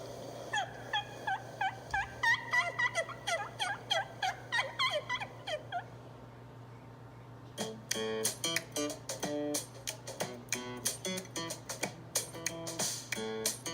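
A turkey call imitates wild turkey sounds, with a run of yelping notes followed by sharp, rapid clucks and cuts, played close and clear in a quiet setting.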